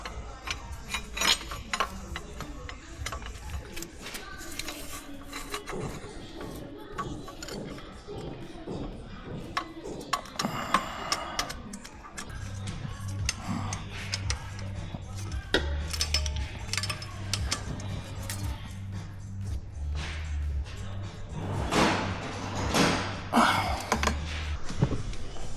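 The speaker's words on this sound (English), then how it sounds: "Now I put this bracket with these two small bolts." Small metal bolts being fitted to a bracket on a Mercedes C250d twin-turbo engine, with scattered light clinks and ticks of tools and fasteners over a low steady hum, close and fairly quiet throughout.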